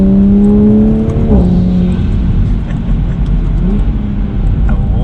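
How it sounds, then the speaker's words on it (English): A 2020 Toyota Supra A90 fitted with an AWE exhaust accelerates gently outside sport mode, its steady engine drone rising and falling in pitch as it pulls, loud and close throughout. "So just a small acceleration, not in sport mode yet, so just to hear the tone of it."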